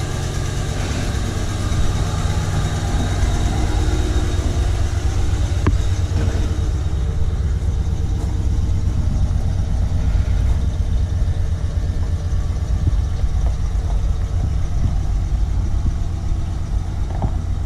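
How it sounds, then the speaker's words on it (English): A 1995 Ford F150 4x4 pickup truck engine idles steadily close by, a smooth low rumble holding even throughout with no voices. "That truck sounds really good, runs really smooth."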